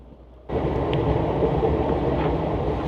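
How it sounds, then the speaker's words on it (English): A London Underground train car in motion: after a short quieter moment a loud, dense rumbling roar swells up and holds steady, a close interior ride noise with faint squeals over the low drone and no voices. "So this is the subway car."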